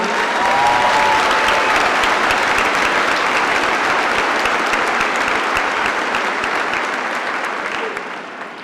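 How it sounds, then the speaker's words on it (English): A large audience at the Lake Central high school Class of 2022 graduation ceremony breaks into sustained applause, a dense, steady wash of clapping that holds for several seconds and fades slightly at the end. "Please join me in a round of applause to acknowledge all of the hard work of these individuals."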